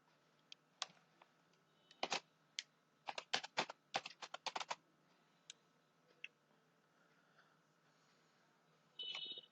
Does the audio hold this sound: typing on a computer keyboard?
yes